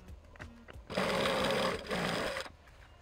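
Sewing machine running steadily for about a second and a half, stitching a seam along a garment's side seam, with a brief pause before it stops; a few soft handling clicks come before it, close and fairly quiet.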